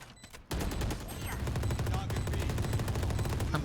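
Video game gunfire rattles in a sustained rapid burst, loud and dense, like continuous suppressive automatic fire that keeps going without a break.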